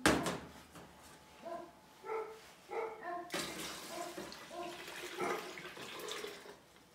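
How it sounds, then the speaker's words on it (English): Two gallons of freshly milked goat milk gush into a container with a rushing, splashing pour, while a dog barks repeatedly in the background. "we're going to take our milk container and we're going to pour our 2 gallons of freshly milked goat"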